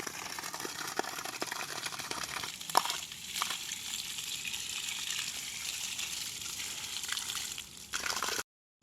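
Water gushes up from an opened pipe valve in dense forest, a steady rushing spray with slight surges that cuts off abruptly near the end.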